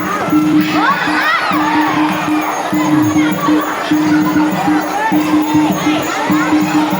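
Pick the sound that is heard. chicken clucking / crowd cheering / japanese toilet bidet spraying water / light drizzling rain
crowd cheering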